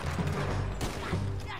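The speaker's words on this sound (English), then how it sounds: "Who's shooting at me, man?" Gunfire in Red Dead Redemption 2 crackles in a dense, continuous burst of shots with a sharp crack near the middle, layered over a low rumbling game backdrop.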